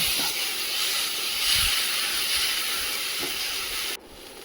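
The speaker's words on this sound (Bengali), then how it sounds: "রসুন বাটা সবগুলি মশলা একসঙ্গে কচিয়ে নেব" Garlic paste, onion and ginger paste, and spices fry together in a hot pan with a steady loud sizzling hiss, broad and continuous, easing slightly near the end.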